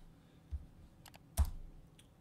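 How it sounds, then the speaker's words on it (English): A computer keyboard is typed on in a few sparse, quiet clicks, with two sharper keystrokes standing out against a near-silent background. "So just type YouTube"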